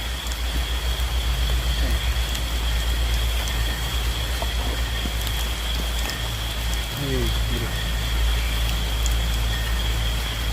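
Heavy rain pours outdoors in a dense, continuous hiss at close range, with a few faint voices and brief knocks heard beneath the downpour.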